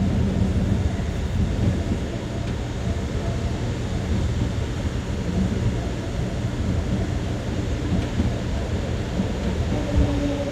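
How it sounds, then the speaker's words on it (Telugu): The Narasapur–Lingampalli express pulls into platform 2 at Kaikaluru station, a dense, continuous low rumble that fills the whole stretch without a break. "ప్లాట్ఫామ్ నెంబర్ 2లోకి అయితే ఆగుతుంది మన ట్రైన్."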